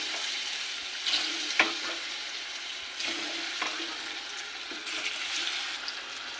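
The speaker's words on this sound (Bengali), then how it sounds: "নুন হলুদ মেখে রাখা কচু এবার তেলে ভাজবো" Salted, turmeric-coated taro fries in oil in a wok, a soft steady sizzle with a few sharper crackles and stirring knocks, fairly quiet and close.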